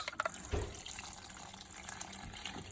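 Water pours and trickles quietly into sourdough dough, with a couple of soft splashes and thuds.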